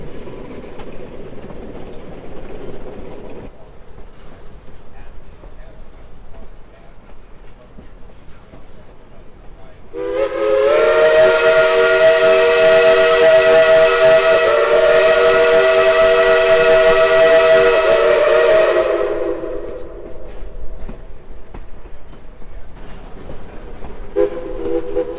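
Steam train of the Cass Scenic Railroad's Greenbrier Express: running rumble with a long, loud, steady whistle blast of about eight seconds in the middle, then the rolling train sound continues.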